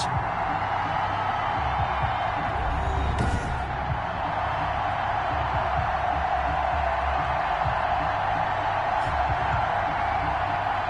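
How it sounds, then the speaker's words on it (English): Stadium crowd noise from an American football video game, Arizona Cardinals versus Buffalo Bills, a steady loud roar that runs without a break throughout, with faint cheering swells on top. "This crowd is ready as their guys get set to match up between the Arizona Cardinals and the Buffalo Bills."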